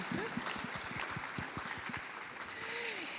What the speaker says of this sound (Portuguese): Eu vou pedir pela terceira vez uma salva de palmas para a Conceição Evaristo.